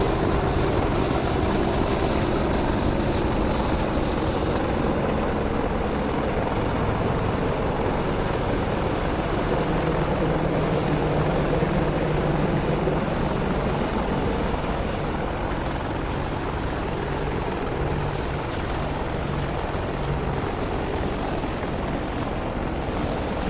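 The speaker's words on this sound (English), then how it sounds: "both helicopters are in the air. It is a Ka-50 versus Apache." Ka-50 and Apache helicopters flying in the combat simulator DCS World, a steady, continuous rotor and engine drone that holds loud and unbroken throughout, with a faint rhythmic chop early on and no talk.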